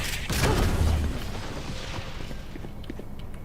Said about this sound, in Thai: นี่เสียงวาร์ปอ่ะ ใช่ว่าร์ปนี่